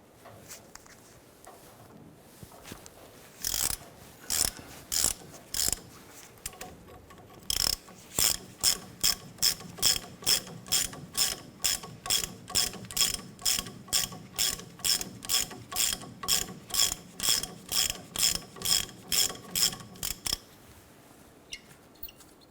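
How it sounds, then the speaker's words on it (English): A hand ratchet with a 21mm socket works loose the tie rod nut on a 1993-1997 Ford Ranger. A close, crisp clicking comes in bursts, then settles into a long run of regular, evenly spaced strokes before stopping. "I'm going to go ahead and use our 21mm socket and our ratchet. Let's go ahead and remove that nut."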